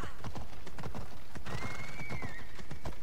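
A horse in the video game Assassin's Creed Odyssey gallops with quick, rhythmic hoofbeats close by, then gives a loud, drawn-out neigh midway, with the clip-clop continuing to the end.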